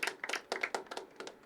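Sparse clapping from a small audience at a poetry open mic, a few loose hand claps in short bursts rather than full applause, fairly faint.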